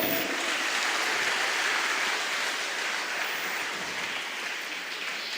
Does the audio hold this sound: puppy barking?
no